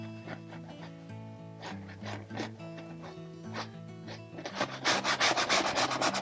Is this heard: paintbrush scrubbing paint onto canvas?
yes